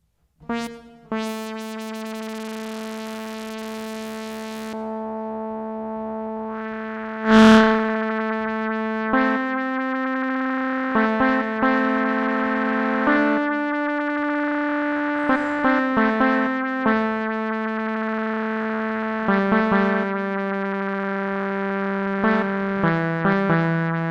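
Synthesizer playing sustained, harmonically rich distorted tones in a stepping sequence of held notes, loud and steady with a sharp accented hit partway through, no voices.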